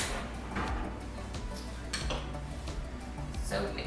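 Metal kitchen utensils clatter and clink as a spoon is picked from among them, several bright, quick knocks close by in a home kitchen while someone talks over them.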